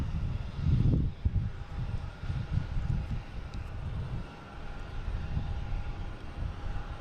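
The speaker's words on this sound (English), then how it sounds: "Next taking off, we have Air Canada." Air Canada Airbus A220 airliner taking off at Boston Logan, a rumbling engine roar that surges early, then pulses and rolls on at moderate loudness with some wind buffeting, no talk.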